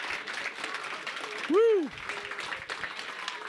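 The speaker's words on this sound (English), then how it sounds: "give them a round of applause" Crowd applause and scattered clapping fill the background at the ESSEF Spring Championships, with a single loud whooping cheer rising briefly in the middle.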